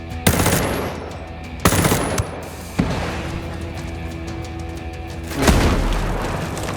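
In the video game Ghost Recon Breakpoint, an incoming rocket and heavy gunfire produce loud booming blasts, three sharp impacts in the first three seconds followed by a rumbling explosion near the end, with continuous battle noise between them.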